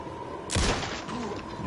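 A single loud burst of gunfire in Alan Wake 2 hits mid-clip and decays into a rumbling tail over a steady background hum.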